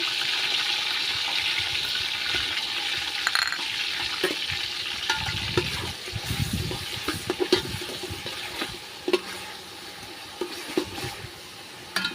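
Onion paste going into a pot of frying oil for a mutton dish, a bright sizzle that gives way to wet stirring and scraping, with a few utensil knocks near the end.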